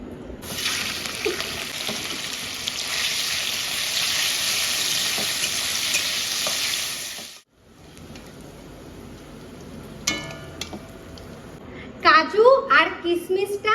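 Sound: chicken frying in a pan

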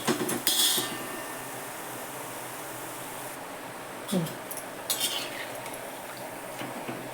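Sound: frying sev for laddu

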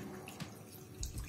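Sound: water poured into pot of mutton for cooking

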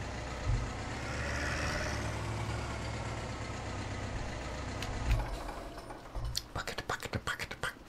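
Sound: tractor engine idling, Farming Simulator 17 video game

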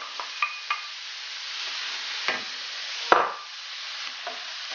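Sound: seafood sizzling and stirred in pan: prawns, salmon, clams

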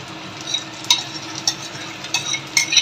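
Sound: tomato puree poured onto frying onion and garlic

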